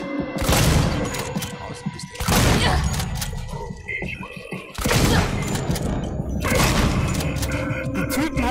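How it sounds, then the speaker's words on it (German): Loud blasts from a shotgun in Alien: Isolation, several heavy booming shots spaced a second or two apart, each with a crashing tail, over a dense, noisy background. "um zwei Shotgun-Schüsse"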